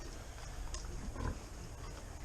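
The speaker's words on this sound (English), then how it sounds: "the pigs got it and they're fighting over it" Pigs on a Central Florida homestead squabble over a dead chick, giving low grunts and oinks amid farmyard noise, with a louder scuffle burst midway through the short stretch.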